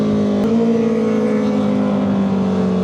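A Kawasaki ZX4R motorcycle makes a loud, close flyby, a strong sustained engine whine that holds steady and then gently drops in pitch as it passes.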